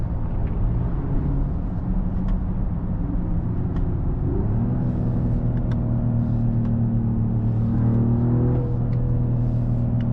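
A 2025 Mercedes-AMG GLE 53 Hybrid SUV engine and exhaust give a steady, throaty low drone that deepens and swells midway as the revs change, heard close with no talking.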